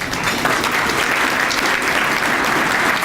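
Guests at a court historical society's annual dinner clap steadily, a thick, uniform patter of many hands that holds at a constant level throughout.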